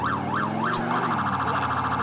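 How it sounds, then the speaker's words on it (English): A police car siren in the video game LCPDFR wails in a rising and falling pattern, then switches to a faster yelp. It plays loud and close, with a low engine rumble underneath. "You don't hear that siren"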